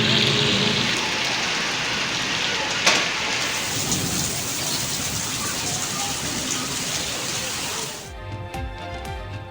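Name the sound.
heavy monsoon rain and thunder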